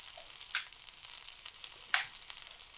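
Shallots sizzling in melting butter in a pan, a soft steady frying hiss with two brief louder spits, no talking.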